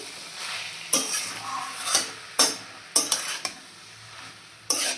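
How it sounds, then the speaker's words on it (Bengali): Banana flower curry (mochar ghonto) stirred over medium heat, a steady low sizzle broken by several sharp spoon scrapes and knocks against the pan, close and fairly loud, with no talking. "মিডিয়াম আঁচে একটু নাড়িয়ে চাড়িয়ে দিলাম"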